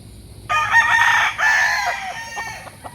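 A fighting rooster at a barangay in Tanauan City, Batangas gives one loud, close crow in two surges, followed by a few soft clucks.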